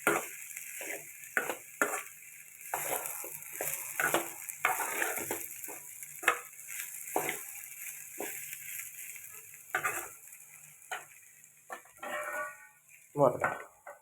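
Beans and carrot curry cooks in a pan, giving a soft sizzle under frequent scraping and clinking of a stirring spoon, quiet and close.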